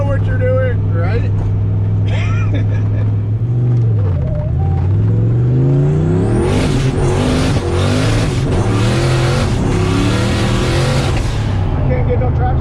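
A Ford Mustang Foxbody at a speedway revs hard while its wheels spin without traction. The engine note surges and sweeps up and down, and a roaring, hissing wash builds midway. Voices can be heard under the noise.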